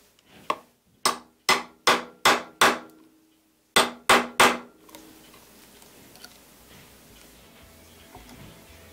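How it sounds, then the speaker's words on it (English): A hammer drives a chisel to knock out waste wood in a clock-making woodworking job: eight sharp, ringing strikes, six in an even rhythm, a pause, then three more, followed by quiet shop ambience. "So I just take a chisel now and knock this out"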